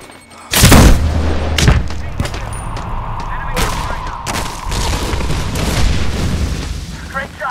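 A booming explosion in the Medal of Honor Warfighter shooter game hits loud and sudden near the start, followed by rumbling battle noise and scattered gunfire, with no talk over it.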